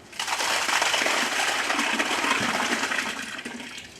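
Grape juice for homemade white wine pours from a pail into a wine press, a steady splashing gush of liquid that runs loud and continuous for several seconds before easing off slightly at the end.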